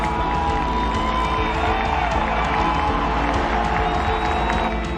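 Big supercross stadium crowd in Denver roaring and cheering continuously, loud and dense with whoops and scattered applause.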